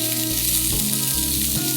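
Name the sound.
plantain peel frying in a pan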